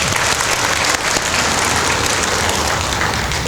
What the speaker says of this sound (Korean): 하나님께 영광의 박수 올릴까요?